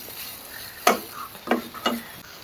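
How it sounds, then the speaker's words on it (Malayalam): Shallots and curry leaves fry in a pan for Kerala varutharacha theeyal. Three distinct scraping spatula strokes sound close over a faint sizzle. "ഇതെല്ലാം കൂടി നമുക്ക് നന്നായിട്ടൊന്ന് വറുത്തെടുക്കാം"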